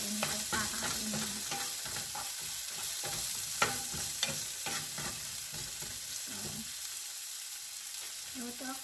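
Food stirred and frying in a small pan in a home kitchen, with steady sizzling broken by repeated scraping and clattering of a utensil throughout, close and moderately loud.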